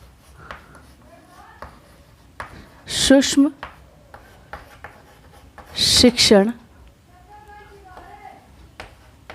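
Marker or chalk strokes on a classroom board during a Hindi micro-teaching lesson, with two louder scratchy bursts of writing between quieter stretches and a voice talking around them.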